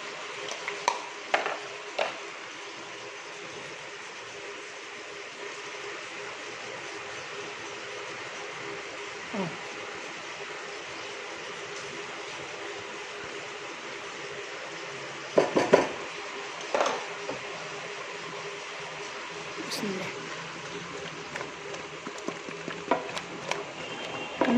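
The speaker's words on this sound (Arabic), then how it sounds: "كلهم بقى يتقلبوا كويس قوي، وكلهم ياخدوا ويدوا بشكل ود لحد الفراخ دي ما تتحمر شويه" Chicken fries in a pan with a low, steady sizzle, broken by occasional scraping and clanks as it is stirred and turned.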